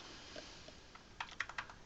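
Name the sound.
typing a URI on a computer keyboard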